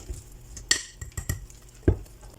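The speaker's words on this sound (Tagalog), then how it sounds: "So, haluin lang ng mabuti." Utensil scraping and tapping against a bowl while batter of all-purpose flour and baking powder is stirred for cheesy puto pao, a close, irregular series of clinks and knocks with no talk.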